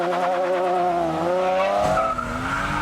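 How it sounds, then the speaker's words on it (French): Two BMW cars race at night, engines screaming loud and close as revs climb through rising gear whines, one motor shifting and overlapping the other in a fast, continuous howl. "Ces 2 BMW vont faire la course"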